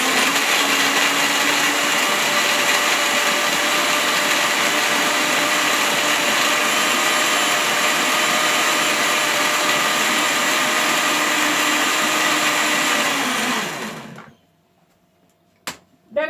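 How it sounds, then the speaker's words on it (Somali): A blender grinds celery with a loud, steady motor whine that runs for about fourteen seconds, then cuts off, leaving a couple of faint clicks. "balse anigu waxaan ka jeclahay inaan sidan u shiito sidana u cabo"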